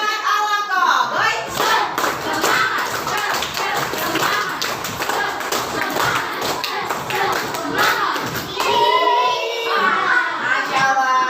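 A group claps together in a fast rhythmic pattern, dense and loud, with children's voices chanting along throughout.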